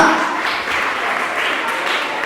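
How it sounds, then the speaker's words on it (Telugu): Children in an orphanage clap together in a steady, dense patter that stays fairly loud and even throughout, with a brief dip partway through. "క్లాప్స్ కొట్టండమ్మా."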